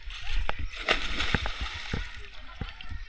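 Boys dive and splash in a full village pond, a series of separate splashes and sloshes close by, with chatter and shouts in the background.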